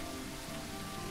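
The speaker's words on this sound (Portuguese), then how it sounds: "Rapaz, que chuvão" Heavy downpour in a survival video game, a dense steady hiss of rain with no break, filling the brief moment evenly.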